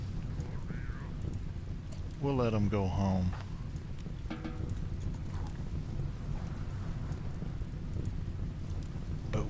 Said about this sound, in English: It's raining, so that's good.